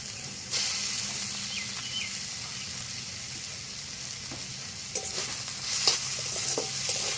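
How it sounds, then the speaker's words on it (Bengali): Steady sizzling of fried potatoes and gima greens in a pan, with occasional scraping and clinks as they are stirred together. "এবার ভেজে রাখা আলুটা এর মধ্যে দিয়ে মিশিয়ে নেব"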